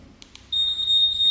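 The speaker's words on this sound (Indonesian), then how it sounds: "di PCX itu sudah dilengkapi dengan alarm ya" A Honda PCX scooter's anti-theft alarm gives a steady, loud, high electronic tone that starts after two faint clicks and keeps sounding with no pause.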